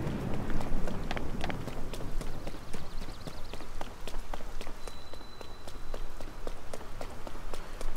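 Rain falls in Tears of the Kingdom, a steady patter with scattered crisp droplet ticks and, early on, rhythmic hoof-like clopping of movement under it, moderately quiet and continuous.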